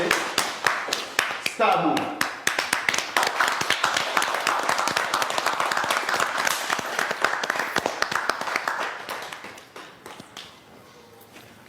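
Studio audience at a Haitian reality show clapping for a contestant, many sharp hand claps forming a lively, loud patter that thins out near the end, with a voice speaking over the start.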